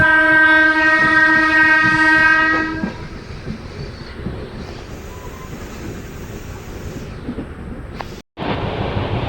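A passenger train rolls along the rails past Mathura, a loud horn sounding for the first few seconds before the steady rumble and rattle of the carriages carries on alone.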